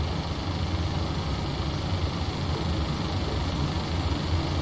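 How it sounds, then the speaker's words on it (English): Boeing 737 engine starting in the Prepar3D flight simulator, a steady broadband whine and rumble of jet engine and air noise, constant and unbroken throughout. "let's get the engine started now. So, starting engine 2"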